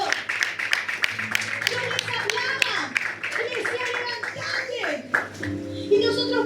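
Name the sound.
applause from the congregation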